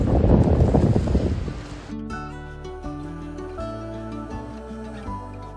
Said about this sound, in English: Boy, it is terribly windy today